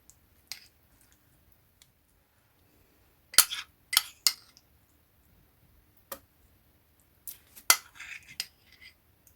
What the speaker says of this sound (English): I'm now going to scoop in my oats that have been soaked for 5 minutes